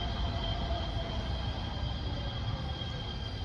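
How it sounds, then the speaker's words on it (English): A train rumbles by at a moderate distance, a continuous low roar with a faint high whine, with no voices. "comes the train, the choo-choo behind me"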